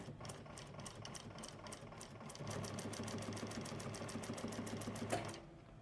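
A Juki 1541S sewing machine stitching in steady rapid bursts, its needle clatter pulsing evenly and fairly close, then a short pause before it stops and the motor hum fades.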